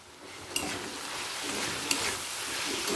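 Ginger garlic paste sizzles and fries steadily in a pan, with a couple of sharp clinks of a spoon against the pan over the continuous hiss.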